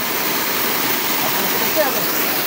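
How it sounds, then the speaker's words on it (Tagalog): Loud, continuous roar of rushing water, close and steady throughout with no breaks. "Tignan mo naman yung tubig na yan. Lakas na tunog eh."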